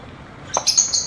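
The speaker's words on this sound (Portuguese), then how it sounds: "Olha o loris aqui, querendo vir aqui." A lory parrot in a large aviary gives a few sharp, high chirping calls close by, clustered in the second half after a quiet start.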